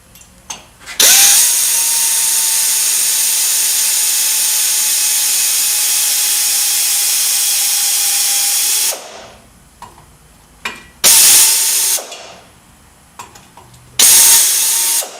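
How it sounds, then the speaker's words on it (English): A power trimming tool whines as it cuts through a tough motorcycle part on an Indian Trailblazer, one long loud steady run of about eight seconds followed by two shorter bursts, close and with no talk. "So you trim it with a trimming tool"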